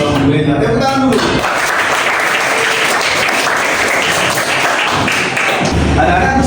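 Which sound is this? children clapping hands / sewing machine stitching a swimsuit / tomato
children clapping hands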